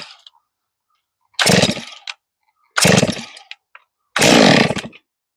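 Chainsaw milling a huge pine log, the saw roaring loud and close in three separate bursts of about a second each, with quiet gaps between them.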